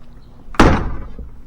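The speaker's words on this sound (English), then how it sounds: "Doors open." A door swings and bumps with one sharp loud thud partway through, followed by a fading rattle and a faint second knock.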